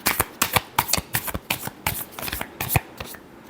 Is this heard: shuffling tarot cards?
yes